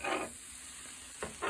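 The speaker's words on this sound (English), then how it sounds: "I kind of got a little bit splashed by a little bit of sizzle, but that proves it's working." A grilled cheese sandwich sizzles in a frying pan, with soft crackling bursts at the start and again near the end over a faint steady hiss.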